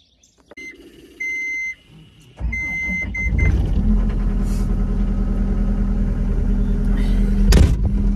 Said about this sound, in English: take a few minutes for the skid loader to warm up anyway